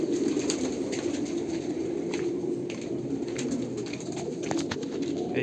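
Purebred Andhra Kalanka pigeons coo continuously inside a female loft, several soft, throaty calls overlapping close by against a steady background hum.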